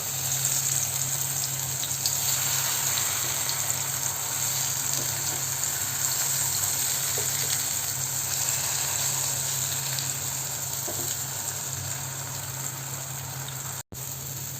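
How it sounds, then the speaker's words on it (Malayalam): Eggplant pieces fry in hot coconut oil, giving a steady, close, continuous sizzle that holds evenly throughout with no talking. "ഇനി അതേ വെളിച്ചെണ്ണയിലേക്ക് തന്നെ നമുക്ക് ഈ വഴുതനങ്ങ ഇട്ട് കൊടുത്തിട്ട് നമുക്കൊന്ന് ഫ്രൈ ചെയ്തെടുക്കാം"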